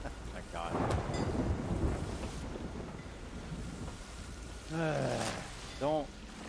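A thunderstorm at sea in a pirate-ship video game, with a rumbling stormy roar of wind and waves and voices talking and shouting over it.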